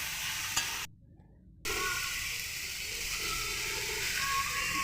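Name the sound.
chopped tomato and onion frying, being stirred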